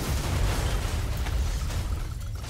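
In the Goat Simulator video game, a bus stop explodes into a loud, continuous rumbling blast with crackling bursts that fade slightly toward the end, heard alone without talk.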